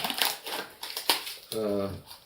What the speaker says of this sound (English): I'm going to go ahead and do some of the repacking with these plastic bags